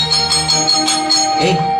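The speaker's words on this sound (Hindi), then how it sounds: "घंटी बज गई, चलो।" A school bell rings with a steady, bright metallic tone through most of the moment, while voices talk over it in a Chhattisgarhi film scene set at a school.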